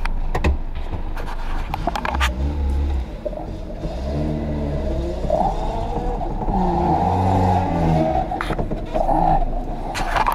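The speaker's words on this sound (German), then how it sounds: "Da läuft sehr gut der Motor." A Trabant's small engine runs while driving, its pitch rising and falling with revs, rattles and scrapes, loud and close inside the car.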